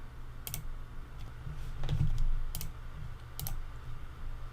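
Sharp mouse clicks during computer software setup: a few isolated, close, dry clicks spaced about a second apart over a low steady hum, with no talking.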